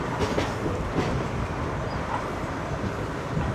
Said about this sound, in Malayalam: നമ്മുടെ രാജറാണി പ്ലസ് നാളത്തെ ഷൊർണൂർ നിലമ്പൂർ പാസഞ്ചറും നമ്മൾ നാറോൽ സ്റ്റേഷനിൽ നിന്ന് പുറത്തോട്ട് പോവുകയാണ്